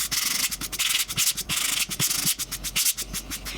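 A sanding block rubs paint on a wooden sled in rapid back-and-forth strokes, a close, rhythmic scratchy rasp with no talking.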